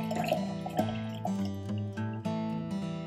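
Water poured into a glass jar to top up a cherry, lime and ginger electrolyte drink, a steady close liquid fill with a few splashy surges and dribbles over about three seconds.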